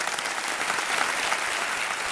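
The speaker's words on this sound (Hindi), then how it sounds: "तालियां बज रही आपके लिए" A studio audience on the game show Kaun Banega Crorepati applauds a female contestant in a loud, dense wash of clapping that stays steady throughout.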